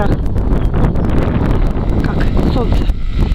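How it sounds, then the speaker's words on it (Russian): Strong spring wind buffets the microphone in a steady, roaring rush across the whole clip, with gusts swelling and a voice faintly audible underneath. "Вот видите, какой ветер. Даже моего голоса не слышно, потому что очень сильно дует."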